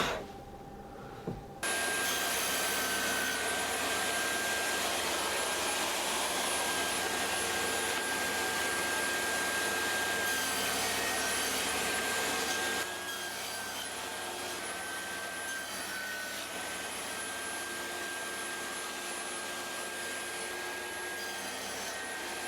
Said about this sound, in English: I'm going to go to the table saw and get them cut down